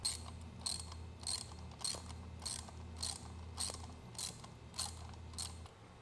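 Tightening a butterfly nut on a wall-mount cable station, about eight evenly spaced ratcheting clicks repeating at a steady rhythm, close and fairly quiet over a low mechanical hum.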